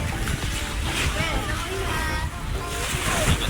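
Sea waves wash onto a beach at Panglao, Bohol, a steady broad rush of surf with wind buffeting the microphone and faint voices mixed in throughout.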